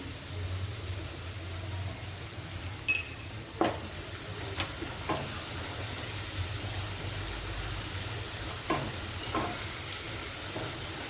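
Finely chopped onion sautéing with salt in a pan, a steady close sizzle and hiss with occasional scrapes and knocks from stirring.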